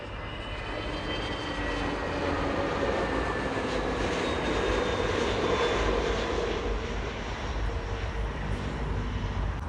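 A jet airliner landing at Delhi airport roars loudly and steadily throughout, a broad continuous engine rumble with whining high tones, with no one talking.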